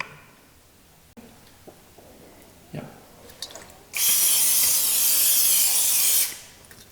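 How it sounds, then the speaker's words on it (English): Cooking oil sprayed into a bowl ahead of Thermomix TM6 bread dough: a loud, steady hiss of about two seconds, close and alone, after a few small clicks and handling taps. "I'll just oil that bowl first to make sure that it doesn't stick"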